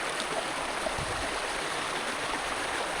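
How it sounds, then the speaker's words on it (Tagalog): Floodwater current flowing steadily past, a continuous broadband rush of moving water with a faint gurgle, close and even in level throughout with no talking. "hindi gaano kalakas yung current niya, oh"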